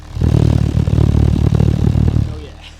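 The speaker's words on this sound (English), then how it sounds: "just listen to this exhaust, it is absolutely purring." A 1.4 litre car's exhaust purrs at idle, a low, steady rumble with slight rhythmic pulsing, close and fairly loud, fading near the end.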